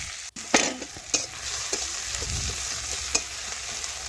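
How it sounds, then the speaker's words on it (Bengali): Chopped tomato and onion fry in oil in a pan while being stirred, giving a steady close sizzle with a few sharp scraping clicks of the spoon against the pan, no voices. "টমেটো পেঁয়াজ ভালোভাবেই ভাজা হয়ে গেছে।"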